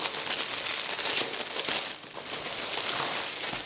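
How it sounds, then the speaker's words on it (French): A newly bought item, an 8-litre container, is unwrapped, with loud, close crinkling and crumpling of plastic wrapping going on continuously without talk. "Je vais peut-être vous la déballer."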